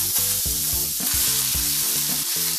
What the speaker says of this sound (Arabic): غناخدو شويه زيت العود وغناخدو البطاطا ديالنا وغنسوطيوها